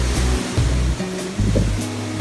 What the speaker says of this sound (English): Behind the waterfall, as you can see.